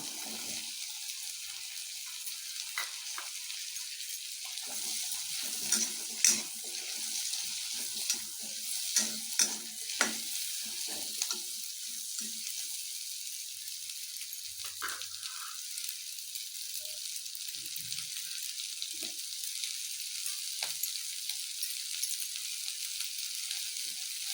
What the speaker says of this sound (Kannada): ಬೆಣ್ಣೆಗೆ ಒಂದು ಕಪ್ಪಷ್ಟು ದಪ್ಪ ಕಟ್ ಅಂತ ಈರುಳ್ಳಿ ಹಾಕ್ತಾ ಇದ್ದೀನಿ ನಾನು